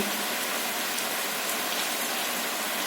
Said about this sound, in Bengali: আর সকাল থেকে আজকে বৃষ্টি হচ্ছে।